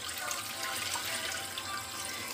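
Warm water pours steadily into hot glass jars, a continuous splashing, gurgling fill that is close and fairly loud throughout.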